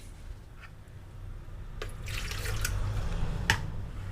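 Tap water running from a pipe into a sink, a steady low gush with a few light splashes and clinks, fairly close and constant throughout.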